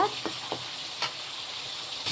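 Boiled tavukkuvan sizzles quietly in a pan as it is stir-fried, a soft steady hiss broken by a few light scraping taps of a spoon.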